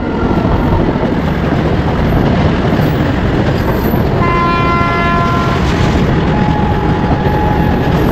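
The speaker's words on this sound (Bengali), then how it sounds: "এই জায়গা থেকে দেখতে পাচ্ছেন ট্রেন আসছে" A train comes in near Madhpur railway station with a loud, steady rumble of wheels on rails, and a long horn blast sounds midway through before the rumble goes on.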